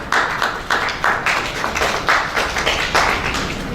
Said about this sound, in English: We applaud before hearing them.